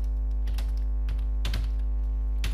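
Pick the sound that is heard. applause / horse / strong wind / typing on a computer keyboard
typing on a computer keyboard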